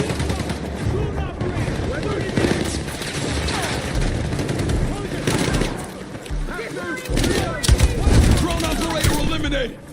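Dense rapid gunfire in the shooter game Battlefield 6, loud bursts of automatic weapons and heavier blasts crowding together throughout, with players talking over the shooting.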